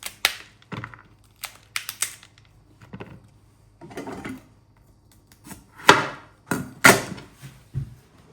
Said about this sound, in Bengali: ফুলকপি কেটে নেওয়া হয়ে যাচ্ছে।